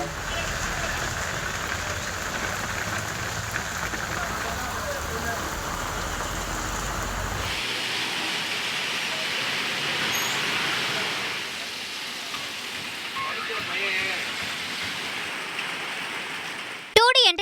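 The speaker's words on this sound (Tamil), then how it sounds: "அனைத்து இடங்களிலும் 1 மணி நேரமாக பலத்த மழை பெய்தது." Heavy rain pours down in a long, steady, dense hiss that fills the whole stretch, with a low rumble underneath that drops away partway through while the downpour keeps going.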